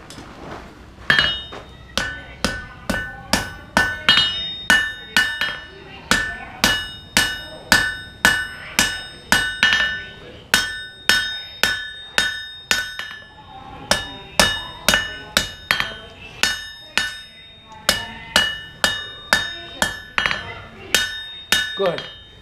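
A hammer strikes a heated knife blade at a forge in a steady, ringing series of loud metallic blows with brief pauses between runs, close and dominant.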